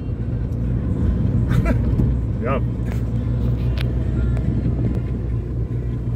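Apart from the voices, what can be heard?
car engine running again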